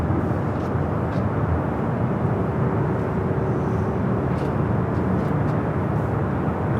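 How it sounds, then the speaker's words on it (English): A Delta Boeing 767-300ER jet airliner at LAX airport gives a loud, steady broadband roar of engines, constant and close, with no voices over it. "up next is that Delta 767-300ER committed from JFK, flight"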